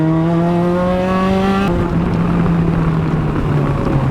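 A race car's engine roars loud and close during a track day drive, revving high before a sharp gear shift drops the pitch and the engine pulls on steadily.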